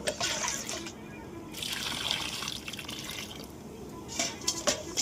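Water poured out for a homemade organic fertilizer, a steady hissing splash that swells and fades in two bursts, fairly quiet, with no talking.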